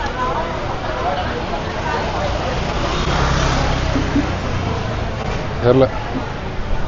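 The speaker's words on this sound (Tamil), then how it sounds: "டிராஃபிக் பாருங்க" Busy street traffic in Hanoi rumbles steadily, with engines passing and a constant road wash. People are talking nearby over the noise.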